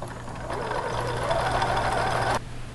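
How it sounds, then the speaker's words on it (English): A domestic sewing machine stitches a straight seam in one steady, close whirring run with rapid mechanical ticking of about two seconds, then stops abruptly, leaving a low hum. "if my machine and I will just get along and sew a nice straight seam"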